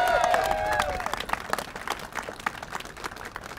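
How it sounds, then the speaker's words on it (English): A crowd at a political rally calling on Congress to pass the Honoring Our PACT Act claps and cheers, loud at first and then settling into steady scattered applause. "Cheer if you're going to do this today."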